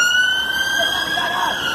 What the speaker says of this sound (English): I hear the noise of siren.